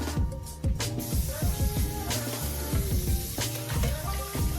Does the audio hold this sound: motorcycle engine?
no